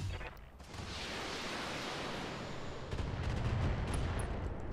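Weapon fire slams into a mech during a Battletech multiplayer match, a dense continuous barrage of blasts and rumbling impacts that stays loud throughout and swells slightly near the end.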